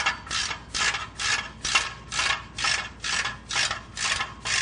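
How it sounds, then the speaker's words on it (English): A ratchet wrench tightens nuts and bolts on a car's catalytic converter, giving nine evenly spaced rasping clicks in a steady back-and-forth rhythm, close and distinct, with no talking over them. "Once we get all of our nuts and bolts started, we're going to tighten the rear up first."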